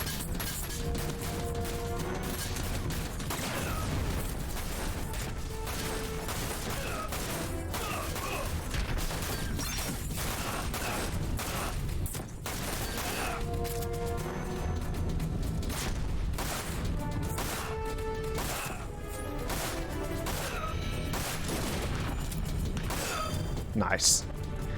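Pistol gunfire in the Final Fantasy VII Dirge of Cerberus video game, heard as repeated sharp shots and impacts among game music and effects, with a player talking over much of it.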